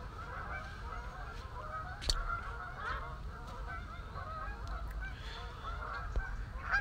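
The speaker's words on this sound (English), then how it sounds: "there's millions of geese. Look, I'll show you the geese. Look at the geese. And there's millions of them just taken off." A huge flock of geese taking off near a lake bank, a dense chorus of overlapping honks with a few louder calls standing out, moderately distant and continuous.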